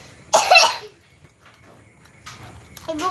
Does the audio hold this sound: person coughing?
yes